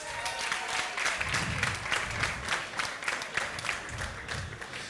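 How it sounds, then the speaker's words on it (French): Steady applause from an audience at a technical high school event, a continuous wash of many hands clapping at moderate level, with no talk over it. "On applaudit très fort."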